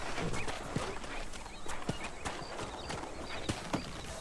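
Horse hooves clip-clop at a steady walking rhythm in the Western video game Red Dead Redemption on PS3, fairly close and clear, with a brief snort and faint ambient background.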